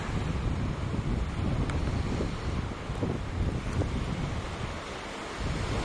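Ocean surf rolling onto the Tasmanian coast with strong gusting wind buffeting the microphone, a continuous loud roar with no voices.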